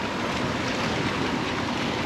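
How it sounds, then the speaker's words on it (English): Strong wind roars steadily across open ocean aboard a moving fishing boat, a dense continuous rush with wind buffeting the microphone and water noise beneath. "It's definitely windy, a little bit bumpy"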